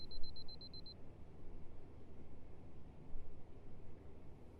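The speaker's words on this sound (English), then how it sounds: "Somewhere there is always a device beeping." A rapid series of about eight thin, high electronic beeps sounds at the start over a steady low background hum, then stops.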